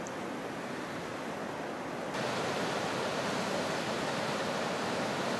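A babbling stream flows steadily over frozen stones in Lapland in winter, a constant close rushing wash with no other sounds.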